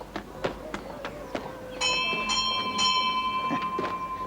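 A church bell rings in an old Western film, a few bright clanging strikes with a lingering metallic tone after softer knocks and movement.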